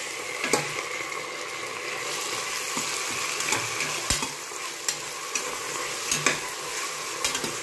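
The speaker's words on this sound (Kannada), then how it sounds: "ಟೊಮೆಟೊ ಸ್ವಲ್ಪ ಫ್ರೈ ಆಗಬೇಕು." Tomatoes sizzle in a pan while a spoon stirs and scrapes them in irregular clicks and knocks against the metal, a quiet steady frying hiss underneath, close by with no talk.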